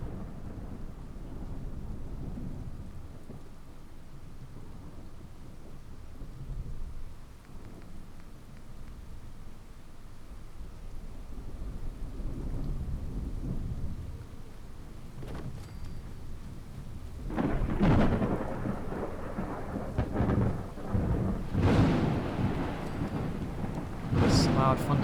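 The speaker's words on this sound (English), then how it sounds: "Loud thunderstorm again." A thunderstorm in Fallout 4 brings steady rain hiss and low rumbling thunder that swell into several loud cracks and booms toward the end. A voice talks faintly underneath.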